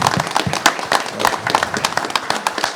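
Audience applause at an agricultural program on cover crops, a modest group clapping with distinct, uneven individual claps close by, fairly loud and short.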